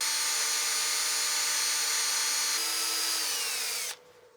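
A wooden platter spins on a woodturning lathe as sandpaper is held to the curve, giving a steady close whine that stops abruptly near the end.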